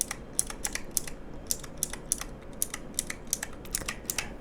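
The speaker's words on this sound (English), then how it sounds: "Clicky tactile keyboards that make a click sound" Rapid, crisp clicks of a mechanical keyboard being typed on, close and fairly quiet, in an uneven, continuous rhythm.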